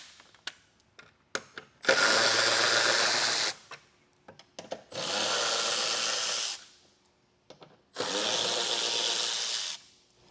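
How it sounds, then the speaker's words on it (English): Power tool with a 10mm socket removing bolts from a 2025 Tesla bumper: three sustained, loud whirring runs of about two seconds each, separated by small handling clicks and taps, with no talking. "Now I'll grab my 10mm socket and remove these 5."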